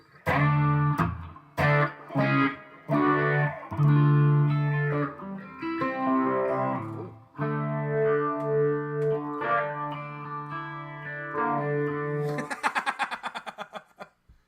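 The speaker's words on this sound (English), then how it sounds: "Something but clean with the phase, Charles. You know, it just has that 70s sound, right" An electric guitar played through a phaser effect gives a clean, swirling 1970s-style tone, strummed chords and single notes ringing out for several seconds, with a rapid tremolo-picked passage at the end.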